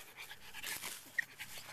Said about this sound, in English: And she's our first dog as a couple.